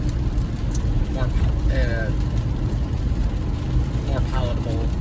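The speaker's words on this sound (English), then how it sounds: "I'm driving in my car and it's raining, so it's a little loud in here" Steady rumble of a car cabin while driving through rain, a loud continuous road and rain roar filling the space, with someone talking over it throughout.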